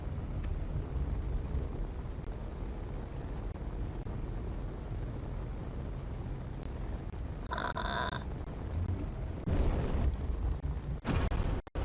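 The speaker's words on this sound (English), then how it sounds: "let's crash this now on that mountain" A battlecruiser slams into a mountain in the space game Space Engineers: a low, steady rumbling roar holds through most of the stretch, then sharp crunching impacts and bursts of noise arrive near the end.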